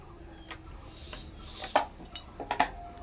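A wok is set down on the stove while jackfruit curry is being cooked, giving a few sharp metallic clinks and knocks close by against a quiet kitchen background.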